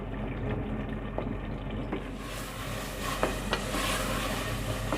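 Minced meat keema with cumin and spices sizzles steadily in a pan over high heat while a spoon scrapes and stirs it in occasional clicks, close and continuous.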